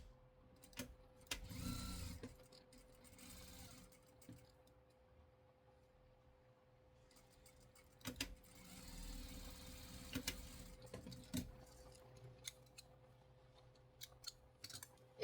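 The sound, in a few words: sewing machine stitching a fabric sheep toy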